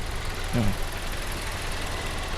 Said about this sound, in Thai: สตาร์ทเครื่องยนต์ให้ฟังเสียงเครื่อง